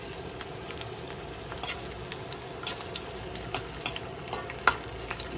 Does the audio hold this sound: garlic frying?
yes